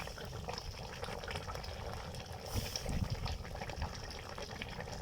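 Fish curry with fried koi fish simmering in a pan, a steady bubbling and sizzling hiss throughout, with a brief louder clatter of stirring near the middle and no talk.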